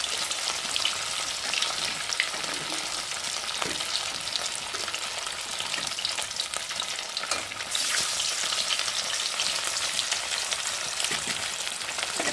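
Fish pieces fry in hot oil with a continuous dense crackling sizzle up close, steady throughout and briefly louder near the end, and no talking.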